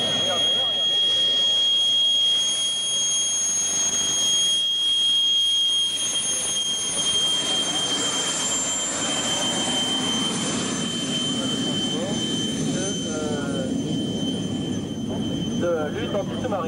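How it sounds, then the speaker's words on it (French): A Fouga Magister jet at an air show at Cambrai Air Base 103 makes a sustained high-pitched jet whistle over a rushing engine hum, heard from a distance beneath an announcer's commentary. "le sifflement que vous entendez, c'est le Fouga Magistère"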